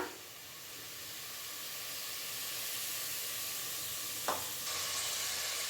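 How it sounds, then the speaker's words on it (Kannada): Two onions, sliced lengthwise, fry in a pan with a steady, even sizzle and hiss throughout, broken by one short utensil knock near the end. "ಈರುಳ್ಳಿ ಫ್ರೈ ಆಗ್ತಿದೆಯಲ್ಲ"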